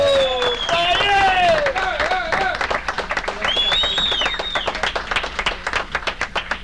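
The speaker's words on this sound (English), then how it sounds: "Please big round of applause for Brian Cannon" A comedy club audience in New York City applauds as comedian Brian Cannon comes on, clapping mixed with tonal whistles and shouts that give way to more scattered claps toward the end.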